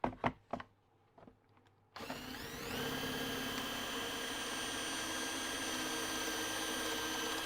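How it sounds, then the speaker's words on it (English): A drill turns a through-hole countersink bit into hard workshop material, starting after a few quiet taps and then whirring steadily and high-pitched at close range for several seconds. "I'm just using a through-hole countersink"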